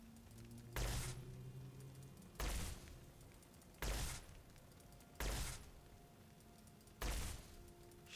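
Five evenly spaced heavy gunshots in the game Fallout: New Vegas, each a sharp loud blast with a short decaying tail, about one and a half seconds apart, no talk.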